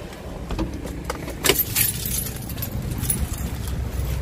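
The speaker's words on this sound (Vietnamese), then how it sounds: "Để em lấy chìa khóa cái." Car keys jangle close by beside a Mitsubishi Zolie seven-seat car, with sharp metallic clinks clustered near the middle over a low background hum.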